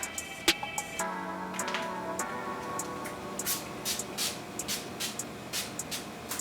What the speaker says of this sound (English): So I'm going to spray some on right now.